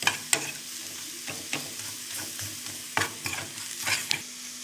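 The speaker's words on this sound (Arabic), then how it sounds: "حمرنا التومه" Garlic fries in a pot and is stirred as it cooks, giving a soft steady sizzle broken by several sharp scraping strokes of the spoon, close and clear.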